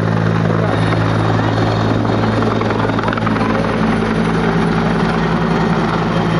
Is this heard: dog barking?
no